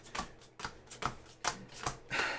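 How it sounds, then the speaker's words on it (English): A Magic: The Gathering deck is table shuffled, with soft, quick card riffles and taps repeating about six times in a steady rhythm, close but quiet, and nobody speaking. "I'm gonna table shuffle."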